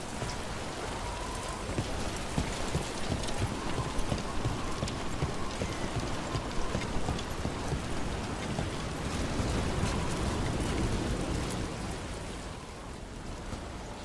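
Rain falls steadily in a Dragon Age: The Veilguard game scene, an even wash of patter mixed with prominent, continuous horse hoof clip-clop throughout, easing slightly at the end.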